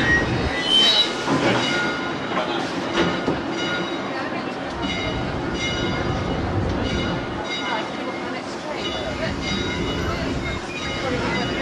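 A train rumbles along the rails with continuous clattering and grinding, loud and close, sustained throughout.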